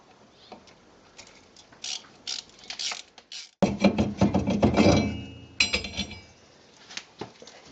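A number 30 Torx screw is worked loose from a Chevy Silverado front brake rotor hub, with quiet metallic clicks and then a louder burst of ratcheting and scraping tool noise close by.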